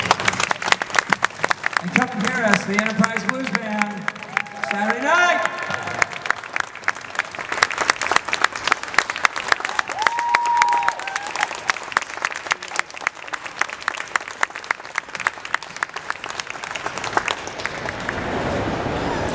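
Sustained applause from an audience at a Destination Star Trek 2018 press briefing, with dense clapping across the whole stretch while a voice talks over it near the start.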